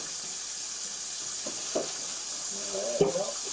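A steady sizzle of chicken frying in a pan, with a few soft clinks and stirring noises on top, close by.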